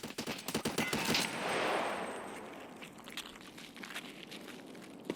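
Rapid gunfire in a first-person shooter game bursts in quick, loud volleys, followed by a hissing wash and scattered sharper shots further off, with no talk.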